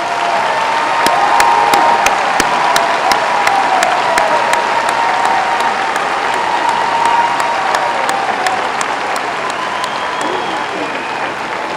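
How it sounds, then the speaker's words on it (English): Sustained, steady applause fills a hall as an audience claps for graduates at a spring university commencement, with a few sharp individual claps standing out above the crowd. "Let's give a round of applause for their outstanding achievements."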